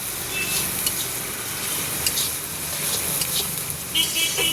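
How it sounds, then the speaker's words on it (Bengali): Garlic fries in hot oil with a steady, even sizzle and faint scraping, close and continuous with no talk. "ভাজা রসুনটা তো একটু ভেজে নিতে হয়"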